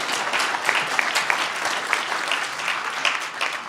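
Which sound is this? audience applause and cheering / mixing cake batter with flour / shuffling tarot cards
audience applause and cheering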